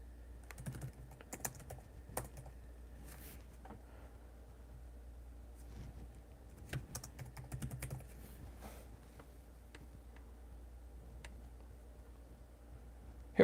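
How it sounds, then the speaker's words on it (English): A Pokemon card number is typed on a computer keyboard as quiet clusters of key clicks, irregular and close, over a low steady background hum. "I thought maybe you were just typing in."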